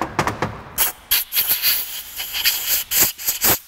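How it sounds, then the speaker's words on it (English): Compressed air blows debris out of a freshly repaired threaded hole in a rapid series of short, sharp hissing blasts, some clustered and some spaced apart, with no speech. "get the remains out with a little bit of compressed air."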